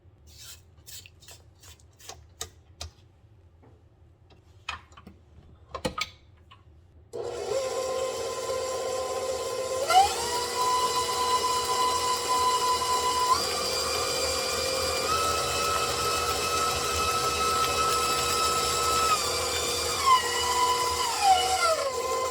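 Soft scraping in a quiet bowl gives way to an electric mixer that starts up and whirs steadily and loudly while beating oatmeal cookie dough with dried cranberries and butterscotch.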